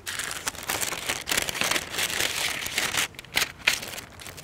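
Close, continuous paper rustling and crinkling as an envelope is handled, with short crisp bursts and small pauses.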